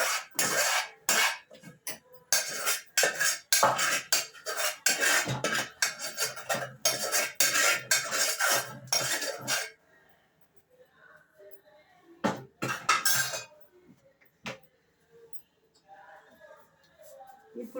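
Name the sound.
grinding gongura chutney with a grinding stone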